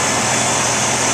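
A Nissan 350z engine idles while three small Mishimoto cooling fans run, making a loud, steady broadband whir and hum at close range with no talking.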